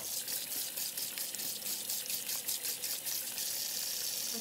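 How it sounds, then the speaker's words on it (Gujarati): Water from boiled cauliflower pours out steadily into a sink or strainer, a close, continuous gushing splash with slight pulsing that runs the whole time with no talk. "હવે હું એને ફાઇન રીતે ડ્રેઇન કરી નાખીશ"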